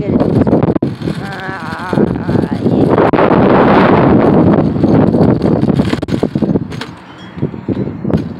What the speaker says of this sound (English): it's really windy and it looks like it's gonna rain